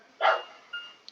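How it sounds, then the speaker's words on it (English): A dog barks twice indoors, a single loud bark followed by a softer, shorter one, with nothing else around them. "Sorry if you hear a dog barking."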